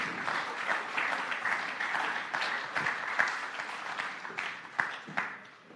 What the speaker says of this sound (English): Big round of applause there for they our are.